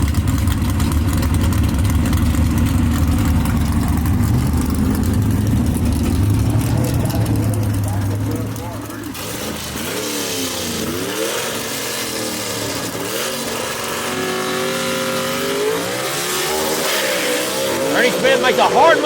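Gasser drag race car engines at Brainerd Motorsports Park idle with a loud, rough rumble, then rev and surge in rising and falling pulls, while an announcer talks over them.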